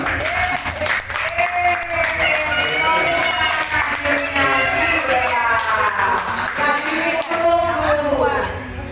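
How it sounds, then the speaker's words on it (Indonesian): Audience at a church new year worship service in Jakarta applauding arriving guests, a sustained wash of clapping from a crowd under a voice speaking over it. "Kita kasih aplaus dulu untuk kedua udah datang."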